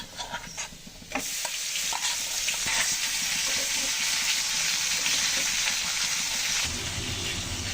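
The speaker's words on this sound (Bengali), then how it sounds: "এখন দিয়ে দেবো লবণ হলুদ মেখে রাখা মাছগুলো।" Small puti fish rubbed with salt and turmeric drop into hot oil in a pan after fried potatoes; a quieter crackle swells abruptly into a loud, continuous close-up sizzle with scattered spatters.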